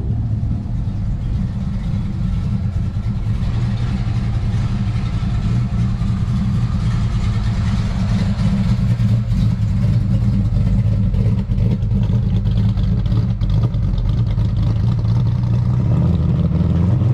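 A short-bed pickup truck engine at a classic car show idles with a deep, steady rumble close by, its revs swelling slightly now and then.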